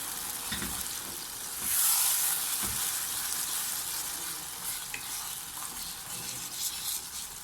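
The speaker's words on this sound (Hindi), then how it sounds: "हम अपनी सूजी डालते हैं और अच्छे से मिक्स करेंगे।" Semolina stirred and roasted in a pan for Makhandi halwa gives off a steady close sizzling hiss with soft scraping strokes, including a brief louder burst partway through, and no talking.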